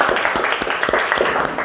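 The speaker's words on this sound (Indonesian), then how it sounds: "Kita beri tepuk tangan untuk kelompok 2." A classroom group claps for a student group, giving a short burst of dense, continuous applause that stays fairly close and loud.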